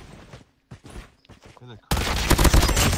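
Gunfire from usable guns in a video game bursts in loud and dense after a quieter stretch of voices, continuing as rapid overlapping shots to the end.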